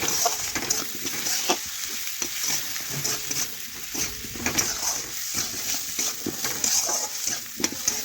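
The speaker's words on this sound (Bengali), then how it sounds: "ভালোভাবে আলুটা ভেজে নিচ্ছি পেঁয়াজের সাথে" Potatoes frying with onion, salt, turmeric and chilli powder sizzle steadily in a pan while a spatula stirs and scrapes in repeated strokes, close and moderately loud.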